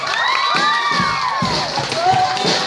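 An audience at a recycled-clothing fashion show cheers loudly, with high children's shouts and whoops rising over a dense crowd roar and scattered claps, sustained throughout.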